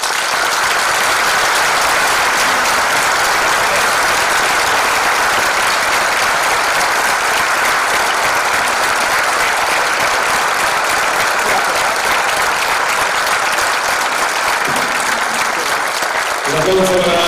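Sustained applause from a conference audience after a talk, loud and continuous, dense clapping filling the room before tapering off at the very end.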